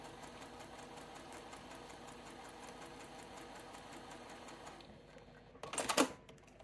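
A sewing machine stitches a quilt block in a steady, fast, even mechanical whir at low level, continuing for several seconds, then slowing and stopping with a short clatter near the end.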